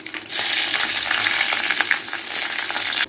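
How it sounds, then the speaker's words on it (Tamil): Mustard seeds and dried chillies crackle and sizzle in hot oil in a pan, a steady bright hiss dotted with quick popping bursts, close and loud throughout. "எண்ணெய் காயவும் கடுகு போட்டிருக்கேன். கடுகு வெடிக்குது. இப்போ காஞ்ச மிளகா போட்டேன்."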